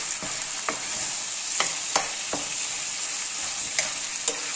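Mutton keema sizzles and fries in a pan, a steady high hiss punctuated by several sharp scraping and tapping strokes of a spoon as it is stirred, close and moderately quiet, no talking.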